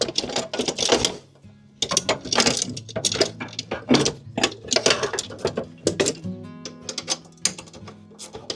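Ratchet wrench clicking in quick bursts as nuts are loosened on an Avant compact loader being taken apart, close and fairly loud, with short pauses between runs of sharp metallic ticks.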